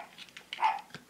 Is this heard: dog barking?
yes